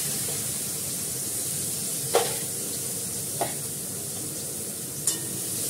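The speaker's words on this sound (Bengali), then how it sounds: "এটাকে ফ্রাই করে দিই ভালো করে।" Onion, garlic and green chili frying in a pan, giving a steady soft sizzle with a few brief sharp clinks of stirring spaced across the scene.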